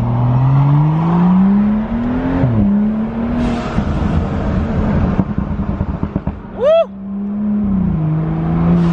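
A BMW 435i setting off on a drive, its engine note rising and shifting through the gears while accelerating, heard up close from inside the car, with a sharp brief chirp partway through.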